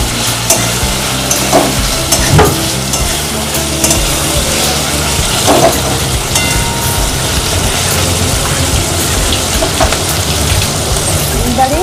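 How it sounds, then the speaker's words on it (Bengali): Onions frying in a pan for birista, a continuous loud sizzle with occasional stirring clatter, while a person talks over it. "এইবারে এইখানে এই পেঁয়াজটা ভাজা হচ্ছে, এইটা বেরেস্তা করা হবে।"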